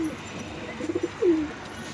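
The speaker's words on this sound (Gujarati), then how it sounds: "જોઈ લ્યો અહીંયા કઈ કબૂતર છે" Pigeons give soft, low coos in a brief rhythmic burst followed by a longer descending coo, close by over quiet background noise.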